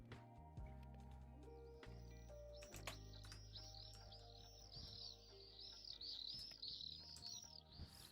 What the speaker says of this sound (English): Fucking birds in my ears.